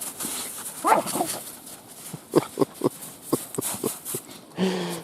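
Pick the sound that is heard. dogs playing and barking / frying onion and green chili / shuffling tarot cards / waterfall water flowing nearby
dogs playing and barking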